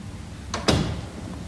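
A door swings shut indoors with a light click followed by a firmer thud, a single quiet close over faint room noise.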